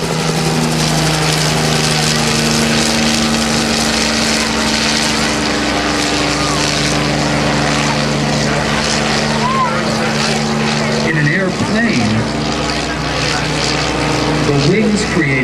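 A Bell 47 helicopter performs an autorotation demonstration at Rotorfest 2010, its steady droning engine and rotor hum loud and continuous, with an announcer's voice rising over it near the end.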